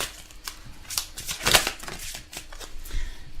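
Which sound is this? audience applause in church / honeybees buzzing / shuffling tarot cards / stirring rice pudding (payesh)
shuffling tarot cards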